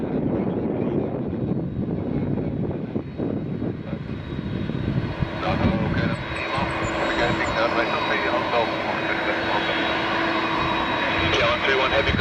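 A KLM MD-11 jet airliner lands on runway 23 at Toronto, its engine roar steady and loud throughout, with broadband rumble and rushing wind noise and a faint tonal whine rising in the later seconds.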